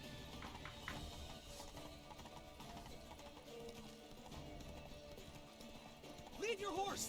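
A horse in the video game The Witcher 3, hooves clip-clopping steadily at a run beneath game music and background noise, with a short, sharp neigh bursting out near the end.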